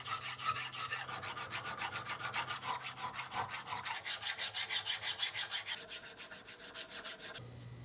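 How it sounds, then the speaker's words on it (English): A cast metal nut and bolt, lost-PLA cast from a 3D print, filed smooth by hand with rapid, steady rasping strokes, close and fairly loud, continuing alone for several seconds before stopping. "Once the nut and bolt were filed smooth"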